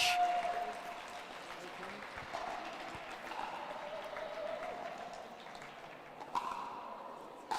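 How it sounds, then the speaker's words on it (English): Crowd applause for Surrey Smash at the Premier Pickleball League finals, a steady distant wash of clapping running throughout, with a voice speaking over it. "Ladies and gentlemen, a round of applause for Surrey Smash."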